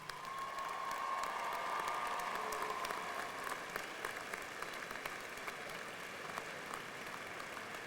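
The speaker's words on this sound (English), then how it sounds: "the graduates should applaud their families and friends who have supported them through the years" Graduates applauding their families and friends at a 1996 University of Washington graduation ceremony; broad, even applause from a large crowd, somewhat distant in a big venue, holding steady and slightly easing.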